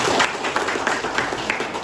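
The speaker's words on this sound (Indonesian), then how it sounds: "Oke, tepuk tangan buat beliau." Audience applause for a speaker at a military district command event, dense steady clapping filling the short stretch at moderate loudness with no talk over it.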